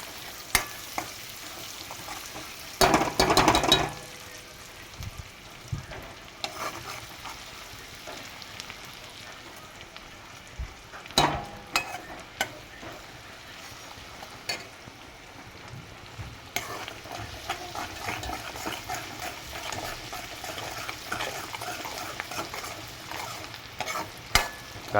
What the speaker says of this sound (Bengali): কাঁচা লঙ্কা, আদা আর রসুনটাকে আমি তেলে দিয়ে দিয়েছি ফ্রাই হওয়ার জন্য।